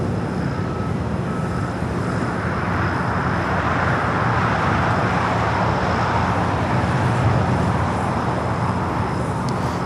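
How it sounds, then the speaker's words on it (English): Air Canada Boeing 777-200LR jet airliner at LAX, a steady broad engine roar, continuous and fairly loud, with no voices. "All right, Air Canada, the 777 at 200 LR up next."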